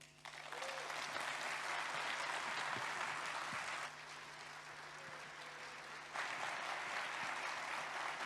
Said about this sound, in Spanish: le damos un fuerte aplauso entonces, más fuerte ahí a don Antonio Lascano